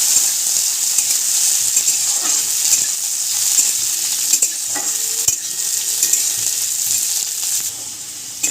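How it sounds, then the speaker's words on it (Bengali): Cashews and raisins, soaked in water beforehand, fry steadily in a pan for a Bengali pulao, giving a continuous bright sizzle with scattered scraping stir clicks throughout and no voices. "এটাকে একটু ভালো করে ভেজে নিচ্ছি।"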